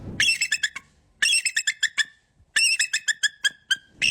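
An eagle gives repeated bursts of high, shrill squealing calls in three rapid clusters of sharp piping notes, loud and close with brief pauses between, no talk.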